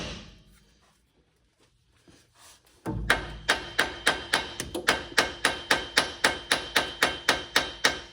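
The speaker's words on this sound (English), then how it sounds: "Whacking the tie rod" Hammer blows on the steering tie rod of a second-generation Cummins truck: after a quiet start, about twenty sharp metallic strikes land in a fast, steady rhythm, loud and close.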